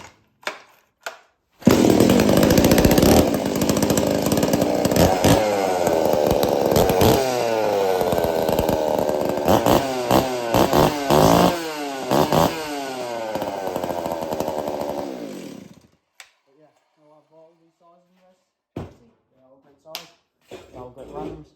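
An old Stihl 038, 044 or 046 chainsaw runs loud and close with the throttle revved up and down repeatedly, then cuts off, leaving a few faint clicks and handling noises in near silence.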